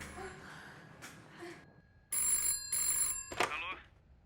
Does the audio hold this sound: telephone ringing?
yes